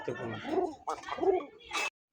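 Pigeons, including a female, coo in a few soft, close throaty phrases, followed by a brief sharper call, with no talking.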